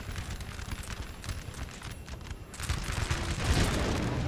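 Cannon and musket fire in the Napoleon: Total War video game, an Ottoman battle: a dense, continuous roar of massed gunfire with deep booms, swelling louder in the last second, with no voices.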